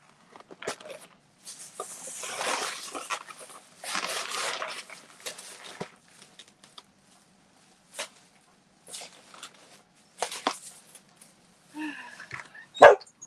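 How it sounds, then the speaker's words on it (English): A dog barks and yaps in scattered bursts after a door is opened, with noisy rustling and shuffling between barks and one sharp, louder bark near the end. "You're barking because I opened the door?"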